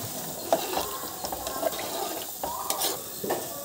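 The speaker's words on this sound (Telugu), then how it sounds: "ఇప్పుడు ఇందులో ఒక 2 గ్లాసులు వాటర్ వేసుకుందాం" Water poured from a glass into a pan of Andhra-style sambar in a home kitchen, with splashing, metal clinks and stirring sounds at close range.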